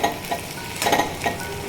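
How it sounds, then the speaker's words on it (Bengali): Potatoes frying in a pan, a continuous sizzle with brief scraping stirs, close and fairly loud, no talking. "এদিকে আমি লক্ষ্য রাখছি যাতে আলুগুলো বেশি ভাজা ভাজা না হয়ে যায়।"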